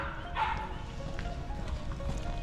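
A dog gives a single short bark at a large dog park in a meadow, fairly close, set against steady outdoor ambience with no other clear barking.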